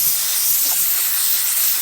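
Brake cleaner sprays from an aerosol can onto a trailer wheel axle during a bearing repack, a loud, close, continuous hiss lasting the whole short burst, with no talking.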